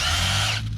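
Cordless power drill turning a dryer vent cleaning brush rod, a loud close whir that runs steadily and then cuts off sharply near the end.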